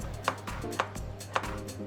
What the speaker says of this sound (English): the ingredients need to be chopped first